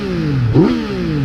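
A Yamaha MT/FZ-09 motorcycle engine revving up as it accelerates, pitch climbing then briefly dropping after a gear shift, loud and close.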